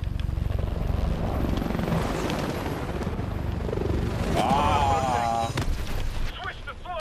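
Video game helicopter rotors thump under a dense din of explosions and gunfire in Call of Duty: Advanced Warfare, with a rising whine cutting through near the middle.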